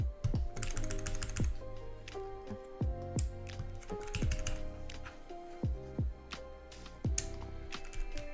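Typing on a Matrix Labs 6XV 2.0 mechanical keyboard: close, crisp clacky keystrokes in irregular bursts, with a musical backing playing underneath.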